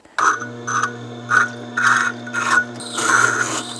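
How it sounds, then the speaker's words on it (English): A drill bit is sharpened on a Tormek wet stone grinder. Six short rhythmic scraping strokes of metal on the turning stone sit over the machine's constant low motor hum, with the last stroke longer. "Start the machine."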